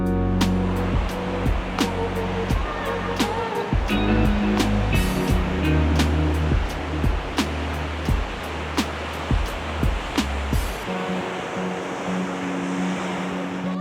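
Wild ocean surf crashing at La Chocolatera in Salinas, Ecuador, where calm water meets rough sea: a continuous loud roar of breaking waves with wind buffeting the microphone, no talking.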